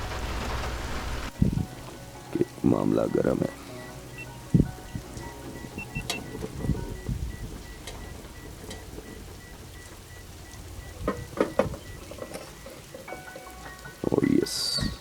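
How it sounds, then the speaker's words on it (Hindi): Heavy rain falls steadily in Islamabad, a constant hiss beneath the scene, with someone talking over it at a few points. "ये बारिश हो रही है बेहतरीन"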